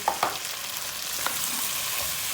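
Potatoes tipped into a pot of tomato paste and peppers cooked until catching on the bottom, a sharp burst of sizzling at first that settles into a steady close hiss, with a couple of stirring knocks.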